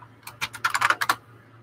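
A short burst of about a dozen quick computer keyboard keystrokes, close and fairly quiet, in an irregular rhythm.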